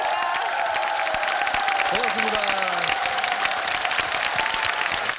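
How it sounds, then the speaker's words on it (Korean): Studio audience of reserve and active-duty soldiers from the army chemical school claps and cheers loudly under a TV host's voice, a sustained crowd roar mixed with speech throughout. "박수 보내주세요"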